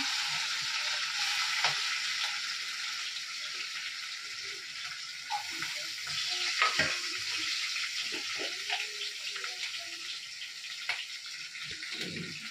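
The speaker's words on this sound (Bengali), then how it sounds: "এখন কড়াইয়ের উপরে আমি তেল দেওয়া আছে, আদা দিয়ে দিলাম।" Ginger frying in hot oil in a wok gives a steady, fairly loud sizzle throughout, with scattered small clinks and stirring sounds on top and no talking.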